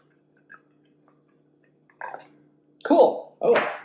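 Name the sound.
canned Hatch Dark coffee being poured out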